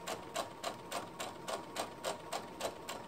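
A sewing machine stitches around the curve of a skirt in a steady, even run of soft rapid clicks, about three per second, quiet and close with no voices.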